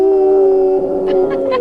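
A pet dog howls on cue in a single drawn-out wavering howl, close and loud, rising then sliding down at the end, with brief higher yips breaking in near the close.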